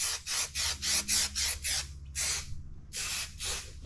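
Spray adhesive hisses from a can in short, repeated bursts onto suede headliner fabric for a Foxbody Mustang. About ten close, sharp sprays come in a rhythmic run, with brief pauses between the later bursts.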